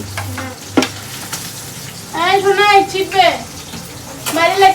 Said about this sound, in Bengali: এখন আমি রান্না করছি মাটন